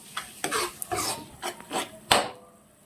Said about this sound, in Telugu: ఇప్పుడు ఇది కొంచెం పచ్చివాసన పోయేంత వరకు మనం వేపుకుందాం